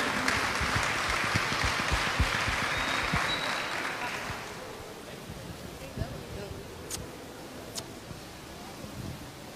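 Audience applause at a plenary session on stage, a dense burst of clapping for the arriving transport secretary that fades out around four seconds, leaving quiet room noise with a few scattered claps.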